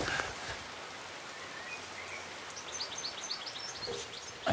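Soft, steady rain falls in a garden, a faint even patter with a few distant bird chirps toward the end and no talking.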